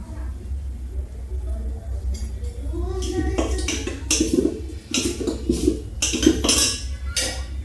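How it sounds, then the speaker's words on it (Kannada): Oil is spread on a dosa tava and batter is poured: soft clinks and scrapes of a utensil against the pan, with light wet spreading sounds, under a person talking nearby. "ಈಗ ಒಂದು ಸ್ವಲ್ಪ ಎಣ್ಣೆ ಹಚ್ಚಿ ದೋಸೆ ಹಾಕೊಂಡಿ"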